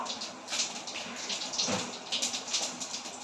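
Whole cumin seeds and bay leaves are dropped into hot oil, giving a close, continuous sizzling hiss with scattered crackles that swell and ease.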